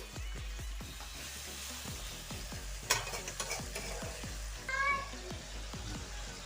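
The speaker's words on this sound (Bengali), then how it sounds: "এবারে পেঁয়াজটা আমি একটু লাল করে ভাজবো" Onions sizzle in a hot pan for khichuri while a spatula scrapes through them in a steady, repeated rhythm; a short high-pitched squeal cuts in near the end.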